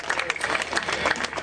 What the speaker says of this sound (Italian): Quindi un grande applauso